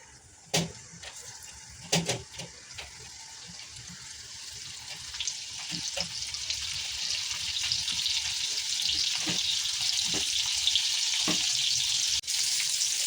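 Marinated prawns dropped one by one into hot oil, each landing with a sharp sizzle burst before a continuous frying hiss builds steadily and stays loud, no talking.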